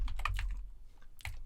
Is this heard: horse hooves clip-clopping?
no